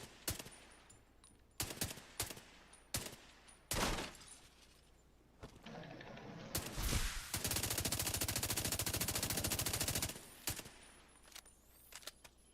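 Gunfire at the shooting range in the video game Division 2, starting with scattered single shots and then a sustained rapid burst of automatic fire, all fairly faint.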